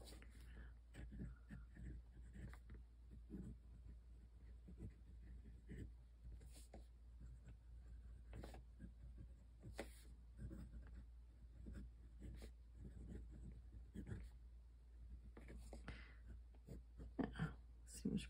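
An Esterbrook Estie fountain pen, freshly inked with an unadjusted nib, writes on paper in faint, close scratchy strokes with irregular rhythm and small pauses, and a soft breathy background runs throughout.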